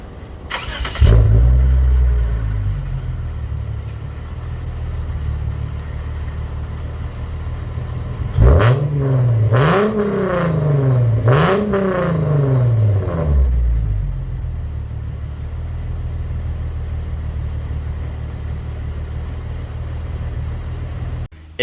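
A car running on a new exhaust and mufflers settles into a deep, steady idle after a start, then gets blipped in a few loud throttle revs that rise and fall before dropping back to idle; no one speaks.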